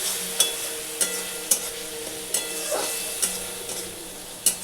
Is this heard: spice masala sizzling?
yes